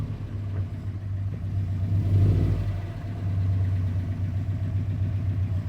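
A Subaru STI engine idling and creeping under light throttle as the car is driven into a trailer, a steady close rumble with a brief swell of revs midway.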